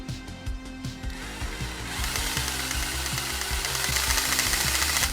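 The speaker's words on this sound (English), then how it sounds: "All you have to do is secure the adapter's shaft into the screwdriver and pull the trigger." Jigsaw adapter driven by an electric screwdriver cuts a 1 cm thick board, a rapid rattling mechanical chatter that grows into a steady, loud buzzing saw noise.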